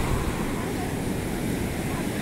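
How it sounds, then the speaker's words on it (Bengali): Big sea waves roll onto a beach, a loud, steady, close roar of surf mixed with wind buffeting. "বাবা কত বড় বড় ঢেউ"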